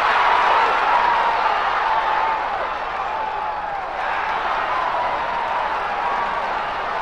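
A large stadium crowd on opening day cheers and roars in a steady, dense wash of sound, loud and continuous throughout, with faint tonal voices rising over the din.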